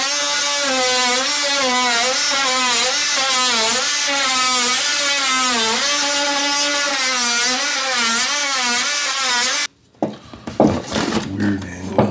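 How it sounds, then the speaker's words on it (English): An oscillating saw buzzes continuously at a high, wavering pitch while cutting out sheetrock in a bathroom being prepped for vinyl plank flooring, then stops abruptly and gives way to brief clattering. "So I'm just going to cut that out now too with the oscillating saw."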